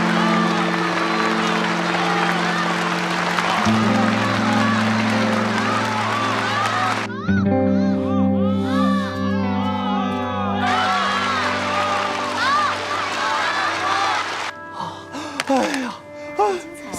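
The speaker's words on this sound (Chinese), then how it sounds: "请大家把更多的掌声献给闵思月小" Audience applause and cheering for a performer, mixed with bright overlapping music and tones that shift midway, busy and loud throughout.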